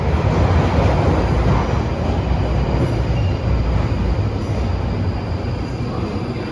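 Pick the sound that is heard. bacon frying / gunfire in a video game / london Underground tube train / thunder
london Underground tube train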